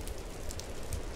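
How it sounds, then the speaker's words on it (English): Rain falls in a steady, soft patter, faint and even throughout the short stretch, with no voices over it. "Hey, it's raining."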